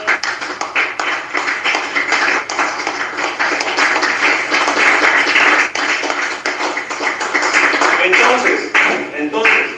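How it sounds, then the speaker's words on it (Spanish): Congregation applauding during a church service, dense continuous clapping from many hands filling the space at steady loudness throughout. "Denle un aplauso al Señor."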